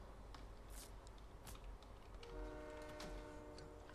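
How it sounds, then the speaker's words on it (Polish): Video game train passing in a battle royale match, a steady rumbling roll with a horn-like tonal blare rising in the second half, heard fairly close over continuous background game noise. "Pociąg tu jest."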